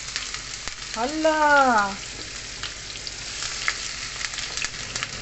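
Onions fry in hot oil in a saucepan, a continuous soft sizzle that runs under a brief startled exclamation from a woman.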